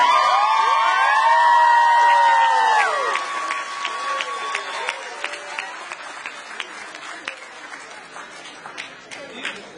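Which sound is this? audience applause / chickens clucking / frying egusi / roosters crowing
audience applause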